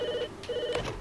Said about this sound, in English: Hey Mike, your phone is ringing.